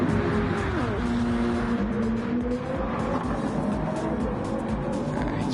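A yellow-headlight McLaren 650S race car in Gran Turismo 7, racing at Le Mans, roars loud and continuous with engine pitch shifting through gear changes under a dense, noisy racing backdrop.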